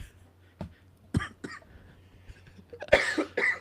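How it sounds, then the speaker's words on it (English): A man coughs and clears his throat, a few sharp separate bursts followed by a harsher double cough near the end, close to the microphone. "Apologies for the cough"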